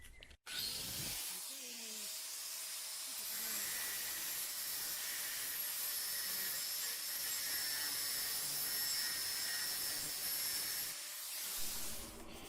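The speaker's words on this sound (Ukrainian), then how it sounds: "Фіксуємо нашу заготовочку, беремо болгарочку." An angle grinder cuts through steel angle stock while fabricating an expedition roof rack for a Nissan Navara, giving a loud, steady high-pitched whine and hiss that runs almost continuously, with a short pause at the start and near the end.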